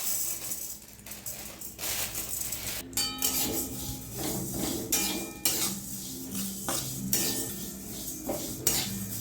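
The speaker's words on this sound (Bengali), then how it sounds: "আমি মুগ ডালটা দিয়ে দেবো," Moong dal is stirred in a wok over the flame, a metal spatula scraping and clinking against the pan with a soft sizzle underneath, steady and close.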